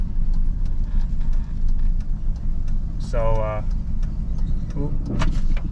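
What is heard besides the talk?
broken-down turbo truck being towed by another vehicle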